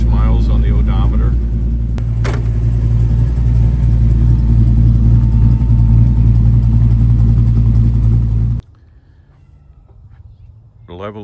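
A 1934 Chevrolet street rod with a custom-built 383 stroker V8 idling steadily, a deep loud throbbing rumble close up that holds for several seconds before cutting off abruptly, leaving faint background sound.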